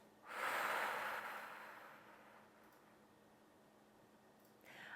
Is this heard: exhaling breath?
yes